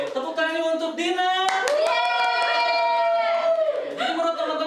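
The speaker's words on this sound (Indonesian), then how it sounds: "Oke, tepuk tangannya untuk Dina." Seminar audience applauds for Dina, a steady wash of clapping running through the whole moment, overlaid by a loud sustained vocal cheer or call from the room.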